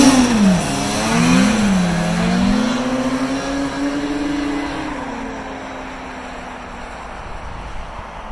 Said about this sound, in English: out for a rip on Grandpa snowmobiles